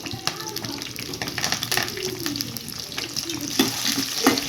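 Ginger and green chillies frying in ghee for katte pongali, a steady wet sizzle with splashy bursts and stirring clatter, fairly close and loud throughout.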